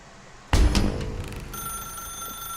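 A telephone rings in The Stanley Parable video game, a bright repeating electronic bell that cuts in abruptly at close range and keeps sounding steadily over a low room hum.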